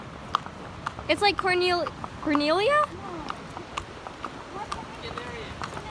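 Horse hooves clip-clop in a steady rhythm outdoors on a horseback ride in Vieques, Puerto Rico, while people talk over them, the hoofbeats faint and continuous beneath the voices.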